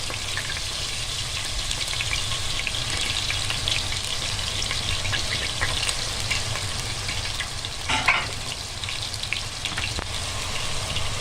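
Onion with chicken frying in a pan for a homemade pasta sauce: a steady close sizzle throughout, with a brief scraping stir near the end and no talk.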